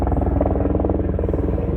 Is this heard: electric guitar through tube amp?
no